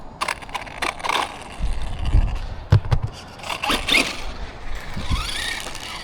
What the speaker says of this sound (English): Wow, the wheel just fell off.